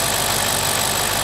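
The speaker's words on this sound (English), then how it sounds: "All we've got to do now is fire the engine up" BMW N62 V8 engine running steadily at idle after a drive belt, tensioner and AC belt replacement, a close, continuous loud hum with a faint mechanical rattle and no voices.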